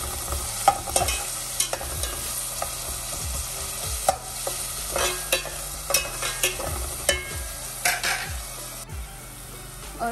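Two small chopped onions frying in half a cup of oil for khichdi, under a steady sizzle, with a spoon scraping and clinking against the pot in irregular stirring strokes, close and alone without talk.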